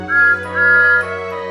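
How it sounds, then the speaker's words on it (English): Loud steam-engine-style whistle for Thomas the Tank Engine, two sustained shrill blasts, the first brief and the second longer, over a steady low hum. "he blew his whistle as loud as he could"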